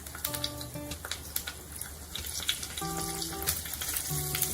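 Cumin seeds and split green chilies crackle and sizzle in hot oil, the frying hiss steady and fairly loud, with short tonal beeps appearing twice over it.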